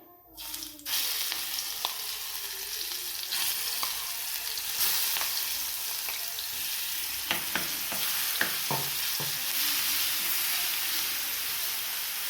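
Ground masala paste for a spicy tomato chutney sizzles steadily in hot oil in a pan, a loud continuous frying hiss with occasional sharp spatters and scraping stirs, no talking.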